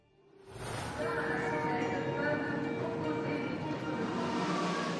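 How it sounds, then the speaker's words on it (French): Metro train at Châtelet-Les Halles station in Paris, a steady loud rumbling roar that swells in after a brief quiet start and holds, with a squealing high whine on top. "À 20 mètres sous les rues de Paris se trouve la plus grande station de métro au monde, Châtelet-Les Halles."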